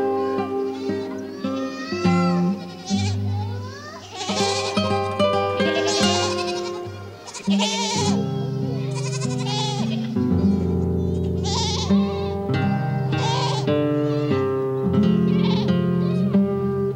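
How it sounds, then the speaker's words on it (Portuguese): Many goats, mothers and kids, bleat continuously at a pen as they reunite, overlapping cries near and far filling the whole stretch. "aí chega aquelas cabras tudinhas, cada uma já corre para o filhotezinho já corre para a mãe"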